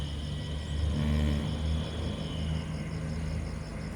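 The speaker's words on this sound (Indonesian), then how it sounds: "truk besar lewat" A large truck passing on a main road in a small town in the morning, a low engine rumble and whir that swells near the middle and eases off, heard from a distance, no talk.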